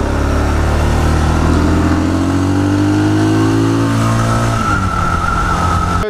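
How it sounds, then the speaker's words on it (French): A Mash Family Side motorcycle with sidecar accelerates, its engine loud and close as the pitch climbs steadily through a gear, then drops and rises again, with no talking. "le moteur tu l'entends beaucoup en tant que passager?"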